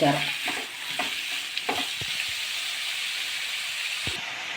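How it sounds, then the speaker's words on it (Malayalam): Curry leaves being stirred and sautéed in a pan for a Kerala Kuttanad duck roast, a steady loud hiss of frying with a few spoon scrapes and knocks early on and no voices. "ഇനി ഇത് നന്നായിട്ട് ഇളക്കി നന്നായിട്ടൊന്ന് വഴറ്റിയെടുക്കണം"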